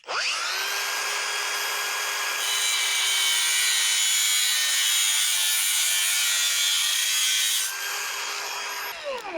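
A power cutting tool slices off a piece of metal during repair of a grill condenser, a steady loud high-pitched whine with ringing tones that runs continuously for about nine seconds, then winds down at the end.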